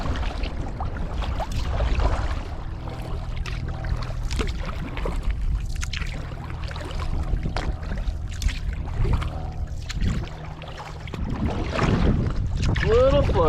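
Kayak paddling on windy water, with gusts buffeting the microphone over irregular splashing strokes, close and fairly loud, with no talking.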